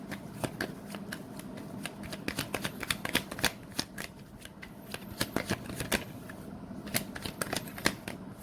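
Tarot cards shuffled by hand, a dense run of crisp, close riffling flicks and slaps repeating steadily for several seconds.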